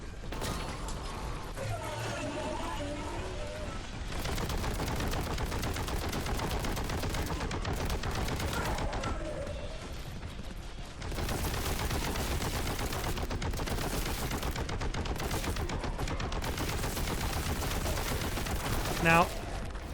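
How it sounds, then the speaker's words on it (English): Red barrels burst amid rapid bolter gunfire in the Warhammer 40K: Boltgun video game, a dense, continuous barrage of shots and blasts that stays loud throughout. "Let's get rid of these red barrels that I am blowing up myself."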